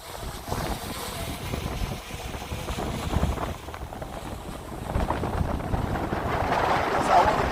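Strong gusting wind, up to 45 mph, buffeting an outdoor microphone in a field near trees while a DJI Mavic Air 2 drone flies, a loud continuous rumbling roar that builds toward the end.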